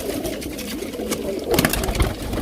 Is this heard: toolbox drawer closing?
no